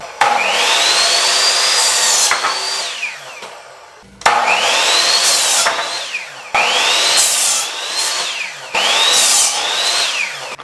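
A power drill drives number 8, 2.5-inch interior wood screws into wood for an aquarium stand. Four loud, close bursts of rising motor whine bite through the wood, each ending abruptly with short pauses between them.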